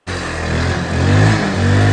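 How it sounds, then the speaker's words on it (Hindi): A Mahindra Centuro motorcycle fitted with an aftermarket CDI, running steadily at close range for two seconds with a low, throbbing engine note that swells slightly as it revs. "इग्निशन ऑफ करके ऑन किया, देखिए एक अजीब सा सीडीआई डाल के स्टार्ट।"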